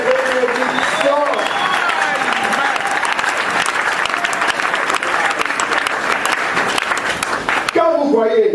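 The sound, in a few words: congregation applauding and acclaiming in church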